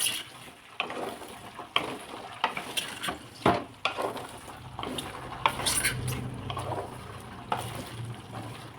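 Small gooseberry (amla) pickle with turmeric is stirred in a pan over a low flame, a spoon scraping and clinking against the metal in irregular strokes over a soft, faint sizzle.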